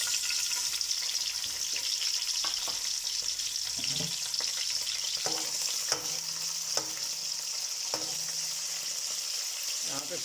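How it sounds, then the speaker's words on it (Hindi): Chopped onions sizzling and frying in oil in a pan for a homemade kadhi pakora curry, a steady loud hiss with occasional stirring clicks and scrapes, close up. "तो अब हम इसमें डाल देते हैं प्याज।"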